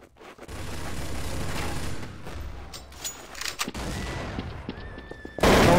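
Counter-Strike: Source deathmatch gunfire comes as a dense, loud spread of shots and blasts with rumbling booms, then a final burst near the end, and no voices over it.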